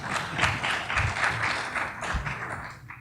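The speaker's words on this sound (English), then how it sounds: "Let's give him a round of applause." Audience applause at a prosecutors' association gathering, a short, moderately loud patter of many hands clapping for about three seconds.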